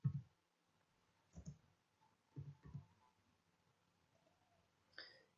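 A computer mouse clicks faintly while someone works in AutoCAD 2016: a handful of soft, separate taps scattered with pauses between them in a quiet room.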